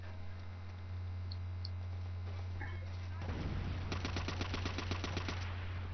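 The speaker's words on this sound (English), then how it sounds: "a guy shooting at me at range, so I can't really do anything" Automatic gunfire in Call of Duty World at War rattles in a fast, evenly spaced burst of fairly faint shots over a steady electrical hum, with someone talking.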